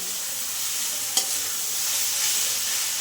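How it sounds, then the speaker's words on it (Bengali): Radish greens fry with garlic and dried chili in a pan, giving a steady close hiss and sizzle with one brief clink partway through. "রসুন আর শুকনো লঙ্কা দিয়ে ভেজেছি বন্ধুরা"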